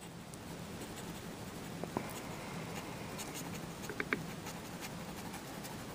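Monteverde Poquito fountain pen nib scratching on paper in loose strokes and squiggles, a quiet, close, continuous scratch with a few sharper ticks and no talking.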